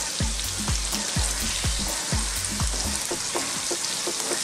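Chicken pieces for orange chicken fry steadily in a pan, a loud, dense sizzle running throughout with a series of soft low bumps from stirring, no one talking.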